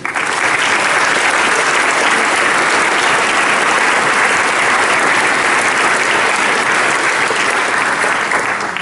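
Loud, dense applause from a concert audience for the performers at the close of a premiere show, sustained and even throughout with no pauses.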